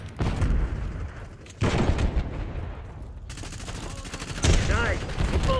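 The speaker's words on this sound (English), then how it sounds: "Firing Archangel." Game weapon bursts and booms from an Archangel missile strike in Call of Duty: Black Ops 6, with loud rapid gunfire swelling at two points over a steady battle din; a voice speaks faintly underneath.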